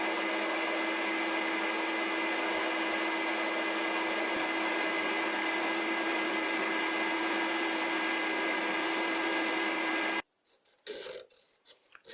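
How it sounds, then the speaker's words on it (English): A lathe turns metal with a carbide insert bit, a steady close grinding hiss with a constant hum running for about ten seconds before it cuts off, leaving a few faint clanks. "I switched to a carbide insert bit, and I'm hoping that will give me a better surface finish."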